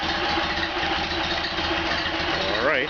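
A rebuilt Ford Model A engine idles steadily and close by with a rough, even low rumble, its exhaust supported on a jack stand, and a brief rise in pitch near the end; a voice sounds faintly over it.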